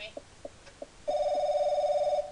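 An old telephone rings in the horror game Paranoiac: a few soft ticks, then one long, loud electronic ring that holds steady for about a second before cutting off.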